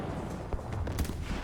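Nose-mounted cannons on a twin-engine bomber-hunting aircraft fire in War Thunder, a rapid crackling burst of shots over a dense, steady background.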